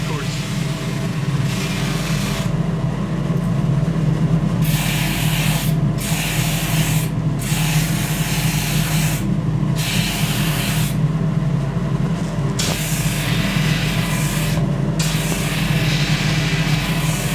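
A coarse 60 grit sanding sleeve shapes a willow cricket bat with a loud, close, continuous rasping hiss, rising in short bursts as the bat is pressed to the sleeve, with a motor hum beneath.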